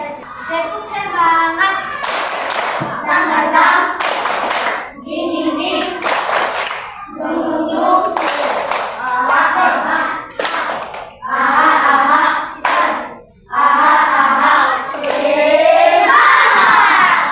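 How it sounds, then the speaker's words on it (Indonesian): Children perform a rhythmic spirit clap together in a classroom, several loud bursts of group clapping in a steady pattern with chanting voices between them. "Tepuk semangat Dion di sini."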